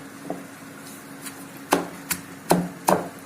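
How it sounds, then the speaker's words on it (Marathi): Red chillies and coarse salt are pounded in a stone mortar with a pestle, heard as about five separate, close, dull thuds at irregular intervals over faint background noise. "कुटून घेणार आहे दगडी खलबत्त्यात"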